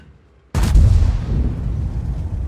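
Tank gunfire in the online game World of Tanks: a single loud, sudden cannon blast after near silence, followed by a long rumbling decay.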